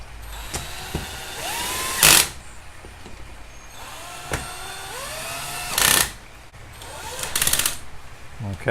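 A power drill whirs in several short bursts, driving screws into plastic on a Laguna Maxflow pump impeller, starting and stopping a few times, close by with some handling noises between runs.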